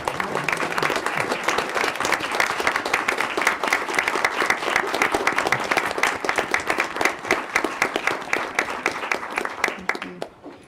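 A long round of applause for students' family members at a school board meeting, dense clapping from a seated audience that holds steady, then thins into scattered claps before stopping, with faint voices beneath.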